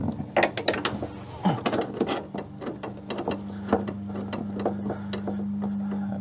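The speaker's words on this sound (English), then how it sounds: "Take your socket. Spin it by hand so you know that you're not cross-threading anything." Socket spun by hand onto a bolt while installing a brake master cylinder on a VW Super Beetle, giving a close series of quick metallic ratcheting clicks and light rattles over a steady low hum, with no talk.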